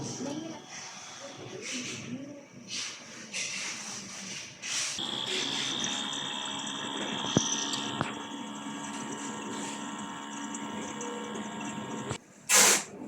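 A printer runs its head cleaning cycle after a 5,718-piece run, giving a steady mechanical whir and hiss with shifting motor tones, a couple of sharp clicks and a brief louder burst near the end.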